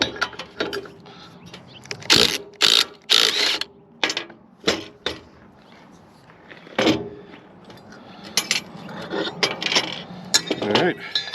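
A ratchet works on the alternator pulley of a Coleman MB4, producing a close series of sharp metallic clicks and clanks in irregular bursts, with quieter clattering handling noise between them.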